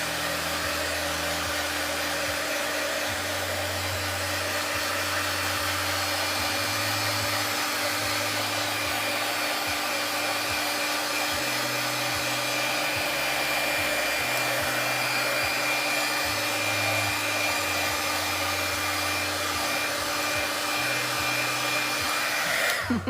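A hair dryer blowing on a freshly applied vinyl coat: a loud, unbroken whoosh running the whole time at near range, with music playing softly underneath.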